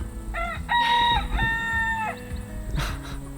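Roosters crow and hens cluck inside a breeding coop, two or three close, loud crows with harmonic calls overlapping soft clucking and farmyard rustle.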